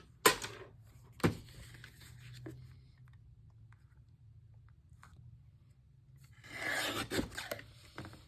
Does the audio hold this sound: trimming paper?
yes